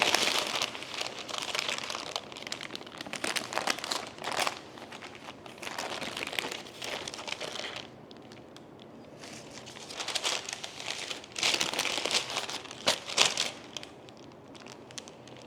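Baking paper crinkles and rustles while a sponge roll cake is rolled up, a close, continuous crackling that swells and fades in bursts, with a short quieter pause midway.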